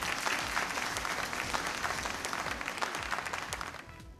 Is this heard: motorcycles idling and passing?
no